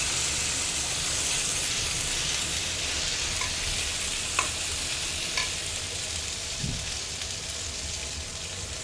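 Ground spices with cumin paste frying in a pan for a catla fish curry, a steady close sizzle with a few soft stirring knocks, no talking.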